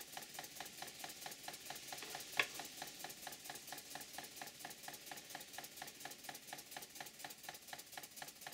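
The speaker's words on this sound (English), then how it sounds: "I'll run the engine at a good speed" A high-quality model steam engine on a steam plant runs at a good speed, giving a steady, fast, even chuffing rhythm that stays faint and constant throughout with no talking.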